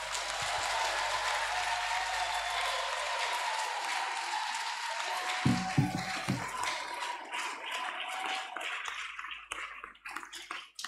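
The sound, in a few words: applause in a church service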